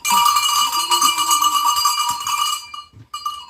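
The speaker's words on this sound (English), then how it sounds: "You can even tell like which animal might be in trouble by the sound of the bell." A shepherd's flock bell clangs steadily and loudly with a bright metallic ring, tumbling briefly near the end.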